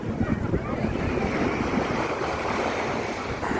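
Sea waves wash steadily onto the shore at Dubai Marina beach, JBR, with a continuous roar of surf and wind buffeting the microphone, loud and close, with no voices.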